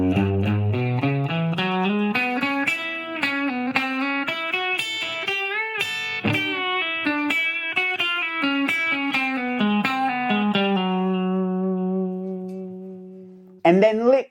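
An electric guitar plays a run of three country licks with hybrid picking, sustained bright notes with light distortion moving through quick phrases and ending on a held note, close and clear.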